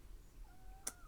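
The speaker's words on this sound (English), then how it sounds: "oh wow, you can hear my cat." A pet cat lets out a faint, thin, drawn-out crying meow in a quiet room, followed by a short sharp tick near the end.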